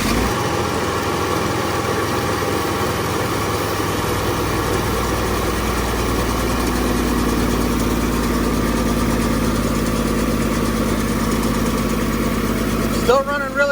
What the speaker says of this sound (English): Still running really rough, not wanting to throttle up.